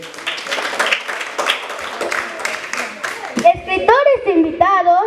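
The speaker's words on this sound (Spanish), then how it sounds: "fuerte aplausos para el niño Iker" An audience at a school tribute event claps for someone narrator. The applause is a dense patter of claps for about three seconds, then a voice begins speaking over the fading claps.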